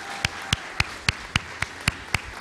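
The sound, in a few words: applause at SpaceX Nasdaq opening bell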